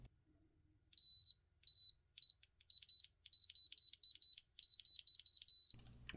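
A GVDA GD128 digital multimeter sounds its continuity beeper with Probe Master probes, giving a close string of sharp, high electronic beeps, a few longer ones first and then rapid short bursts as contact is made and broken.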